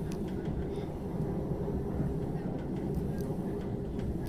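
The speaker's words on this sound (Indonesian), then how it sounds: "Ini kondisi di kereta api" Inside a moving passenger train in Romania, a constant low rumble of wheels and carriage noise runs throughout, with faint higher clicks now and then.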